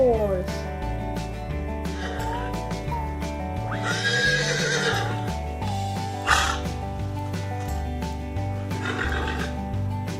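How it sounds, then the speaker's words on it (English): Horse neighing in a children's song about farm animals, with whinnies set over a steady musical backing and sung vocals. "The horse says neigh"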